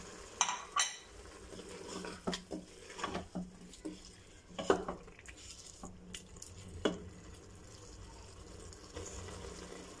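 Potatoes go into a pot of simmering keema with clinks of a spoon against the pot and light stirring and patter, soft and close, with no talk.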